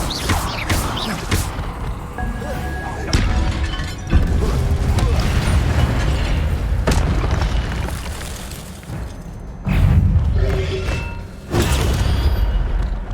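Spell effects from the video game Hogwarts Legacy: a string of loud magical bursts, whooshes and booming impacts in quick succession, with a voice casting Incendio, Lumos and Protego over them.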